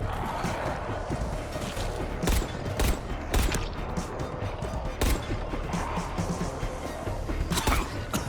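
Gunfire in Dying Light The Beast: a series of sharp, loud single shots at irregular intervals, some in quick pairs, over steady game ambience.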